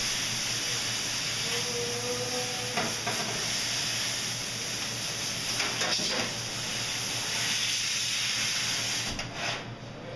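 A water spray rinses a dishwasher's drain plate, a continuous close hiss of spattering water that swells and shifts slightly as the stream moves, without any voices.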